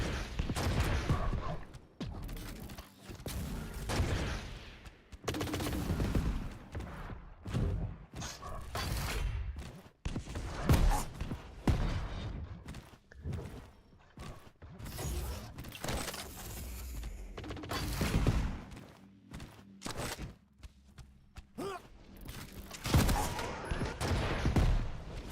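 Rocket launcher fire in the arena shooter Quake Champions, repeated booming blasts and explosions in rapid, irregular bursts amid dense game effects, loud and continuous, with a voice speaking over parts of it.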